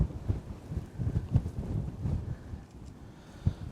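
Gusty wind blows at a lakeshore during bank fishing, heard as a faint, low buffeting rumble that rises and falls in uneven puffs, with no voices.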